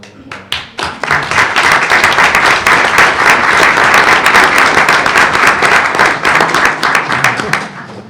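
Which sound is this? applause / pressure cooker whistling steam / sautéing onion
applause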